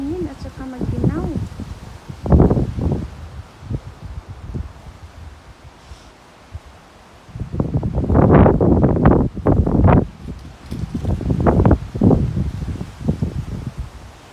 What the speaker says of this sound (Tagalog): Lakas ng hangin, oh guys.